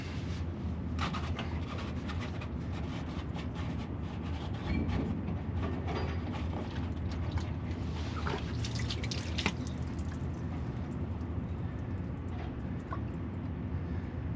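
Fuel draining from the fuel filter of a Ram 2500 pickup with a 6.7 Cummins diesel makes a steady trickling drip, continuous and fairly quiet throughout with no talking.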